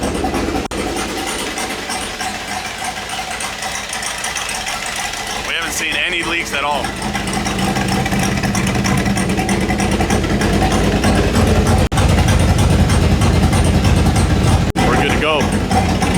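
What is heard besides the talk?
turbocharged truck engine running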